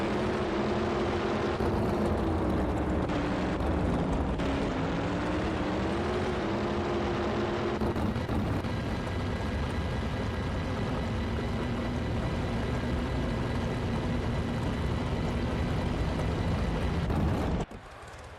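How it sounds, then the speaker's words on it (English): Drag racing engines in the NHRA Championship Drag Racing video game, a continuous heavy roaring drone with shifting pitch that suddenly cuts off near the end. "These engines use decibel levels of 150 dB, which is as loud as a fighter jet."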